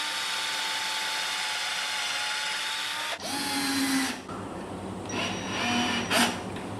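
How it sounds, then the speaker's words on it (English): Cordless power drill with a metal bit boring through wood for a potato box, a whining motor that changes pitch as the bit bites, with short bursts and pauses, close and clear, with no talk. "you can just drill it through. I'm using a metal bit, which is probably not the greatest for wood"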